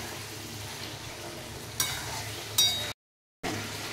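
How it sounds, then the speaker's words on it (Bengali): Chicken sautés in hot oil in a pan in a home kitchen, giving a faint, steady sizzle with a couple of brief scraping stirs before the sound cuts out for a moment. "এই চিকেন আমি একটু কষাবো।"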